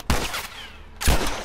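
Two loud, close gunshots in The Last of Us Remastered, each a sharp booming crack with a short echoing tail, roughly a second apart.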